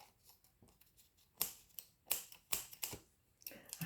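Scissors cut the back off a paper envelope in a series of quiet, sharp snips and crisp paper crackles spaced unevenly at close range, with no talking.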